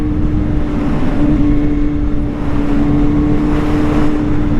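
A 2023 Kawasaki ZH2 supercharged motorcycle pulls hard in fourth gear, its exhaust a loud, steady, droning roar with a strong sustained tone and wind rush, close and continuous with no talk.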